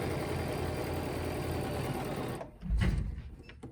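Sewing machine running fast while stitching a quilt along a ruler, a loud continuous close mechanical whir that stops abruptly, followed by brief handling knocks.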